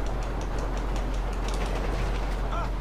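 A train rumbling along the tracks in GTA 5, a steady, continuous low roll with faint rhythmic clicking, heard alone at a moderate, even level throughout.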